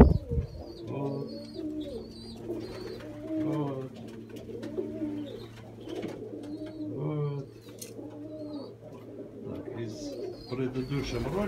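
Adult pigeons coo repeatedly in soft, rolling phrases close by, with a steady low hum underneath and some faint chirps.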